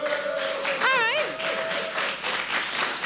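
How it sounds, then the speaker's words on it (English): A crowd claps steadily at an EU regional championship final, with a brief whistle rising and wavering over the applause. "I saw the same people clapping for both teams right now."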